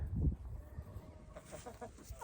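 A farm chicken clucks in a short run of close, rhythmic clucks over a rough outdoor background, with no talking.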